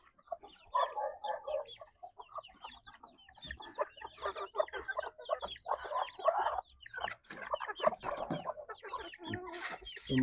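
Livorno and bantam hens clucking nearby in a coop, a busy stream of overlapping clucks and short squawks that rise and fall, with fairly loud bursts throughout.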